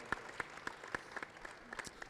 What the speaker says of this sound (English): How about giving yourself a round of applause?